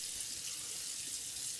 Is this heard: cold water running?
yes